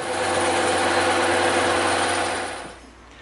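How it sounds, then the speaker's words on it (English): A bandsaw cuts a strip off an EVA foam piece, giving a constant, loud motor whir with a buzzing blade hum for about two and a half seconds, then spins down into quiet. "we're gonna have to slice that off on the bandsaw so that it's the perfect width to fit right in there"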